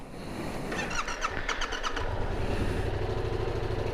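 A Yamaha MT-07 motorcycle engine idles nearby after its high idle was turned down, a steady low mechanical rumble with a brief burst of quicker pulsing in the middle, no voices.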